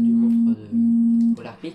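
A phone tone sounds during a round of Fortnite: two long, steady, fairly loud beeps with a short gap between them, followed by someone talking.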